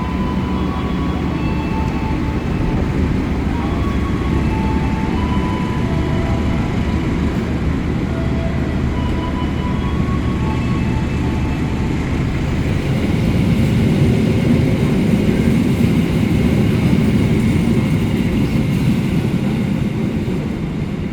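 The Argo Semeru passenger train pulls out of Kroya station with a continuous heavy rumble and engine drone that holds steady and swells slightly louder toward the end, with no talk.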